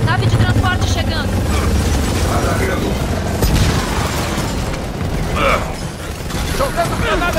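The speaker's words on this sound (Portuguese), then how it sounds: "Nave de transporte chegando." Transport ship arriving in Gears of War 4, a dense, continuous mechanical rumble with low booms and clanking layered over battle noise, loud and close throughout.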